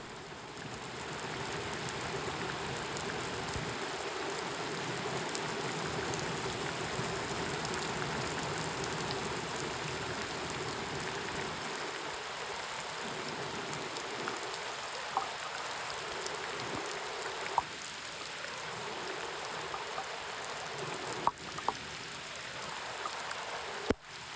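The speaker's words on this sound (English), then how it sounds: "The rain suddenly got heavy" Steady heavy rain from a hurricane hisses continuously, dense and even, with occasional louder drips and splashes standing out, heard on the Blue Ridge Parkway.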